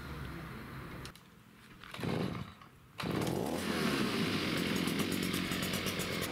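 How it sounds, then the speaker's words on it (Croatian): A GartenXL 5-in-1 trimmer with its leaf blower attachment runs at half throttle, a steady loud engine drone with rushing air that dips briefly near the start before settling into a continuous roar. "Puhač lišća je odličan alat"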